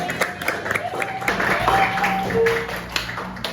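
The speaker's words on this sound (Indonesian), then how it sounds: "Tepuk tangan untuk Gadiza." Students in a classroom give a short round of applause for a classmate, scattered uneven claps with voices and chatter running through them, fairly close and moderately loud.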